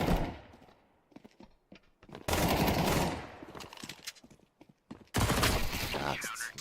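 Counter-Strike gunfire during an IEM Cologne Major esports match between B8 and The MongolZ comes in loud automatic bursts separated by quieter gaps, with caster talk in between.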